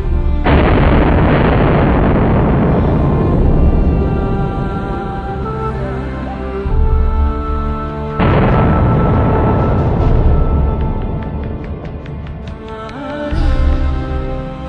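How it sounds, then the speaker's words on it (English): Shotgun blasts in a video game come as two heavy, loud booms, each followed by a long rumbling decay, with faint mechanical clicks near the end. "there are few things in life more satisfying than the cock and body-shaking burst of a shotgun"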